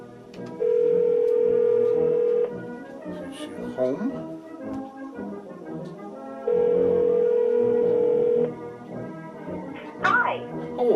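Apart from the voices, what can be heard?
telephone ringing on a call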